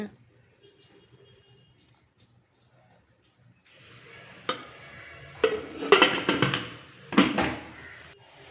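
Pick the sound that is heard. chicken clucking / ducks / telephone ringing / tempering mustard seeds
tempering mustard seeds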